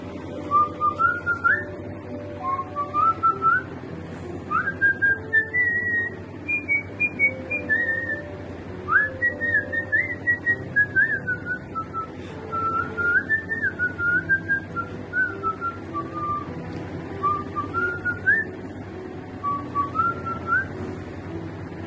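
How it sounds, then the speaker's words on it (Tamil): A person whistles a song tune, clear melodic phrases rising and falling in short breaths for over twenty seconds, close and alone over a faint low hum. "விசில் அடிக்கிறேன், அது என்ன வரி ஞாபகம் வரல"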